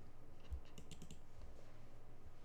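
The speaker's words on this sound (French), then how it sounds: "C'est un petit logiciel qui permet, quand vous appuyez sur votre clavier, ça va faire un autre bruit qui est un peu plus satisfaisant et un peu plus stylé." A computer keyboard fitted with key-sound replacement software clicks out a quick, faint burst of keystrokes, then goes quiet under soft background hiss.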